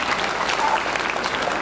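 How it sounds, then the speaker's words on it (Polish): Spectators applauding at an outdoor dachshund parade, the 16th Dachshund March, a dense burst of many hands clapping at steady, fairly loud volume through the whole moment. "Raz jeszcze wielkie brawa dla Gucia"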